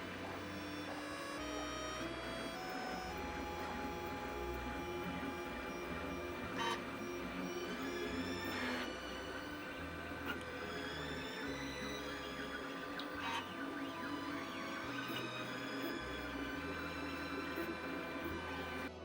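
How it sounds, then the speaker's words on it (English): Sovol SV08 Max 3D printer running a print job, its stepper motors producing a steady whirring hum with shifting tonal whines and occasional faint clicks, continuous and fairly close with no talking. "Sovol SV08 Max hard at work printing the parts."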